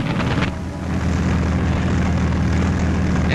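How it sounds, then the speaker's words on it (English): A steady, droning hum of WWII propeller aircraft engines fills the air during the D-Day Normandy invasion, loud and continuous with a low throbbing pulse. "the sound of aeroplane engines filled the air."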